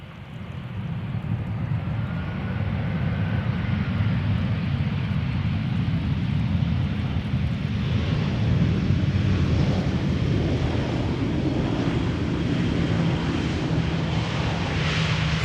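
A jet airliner arrives at Amsterdam Schiphol Airport, a broad steady engine roar swelling slightly as it passes, heard outdoors with wind buffeting the microphone and no talk.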